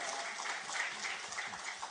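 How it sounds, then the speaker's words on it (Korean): A church congregation claps during a Sunday worship service, a brief, fairly faint patter of many hands that stays even from start to finish. "하나님께 영광의 박수 올리겠습니다."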